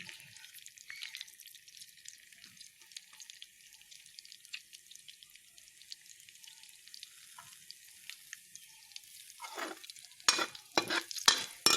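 Onion and garlic frying in oil with cumin, a steady soft sizzle running throughout, joined near the end by several louder clattering stirring bursts close by.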